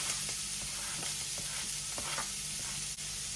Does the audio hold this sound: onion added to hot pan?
yes